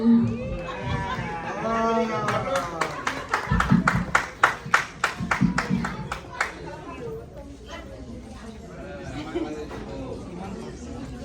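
Audience applause at an outdoor opening ceremony of a world fair and festival in Clearwater, Florida, a burst of rapid, evenly spaced claps rising in the middle and tapering off, with crowd chatter and voices throughout.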